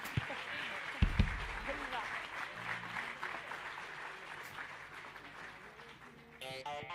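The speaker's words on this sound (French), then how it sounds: "Donc j'aimerais que vous vous applaudissiez." An audience at an inauguration ceremony claps for itself, a moderate wash of applause under voices talking, with a sharp thump early on and a brief musical tone near the end.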